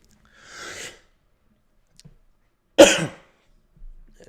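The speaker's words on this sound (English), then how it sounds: "Oh, big gulp there and a cough." A soft swallowing sound, then after a pause one sharp, loud cough close by, followed by a faint breath.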